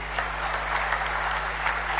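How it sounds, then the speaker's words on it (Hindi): A crowd at a government appointment-letter ceremony in Rajasthan applauds loudly and steadily, dense clapping held evenly over a constant low electrical hum. "एक बार जोरदार तालियां।"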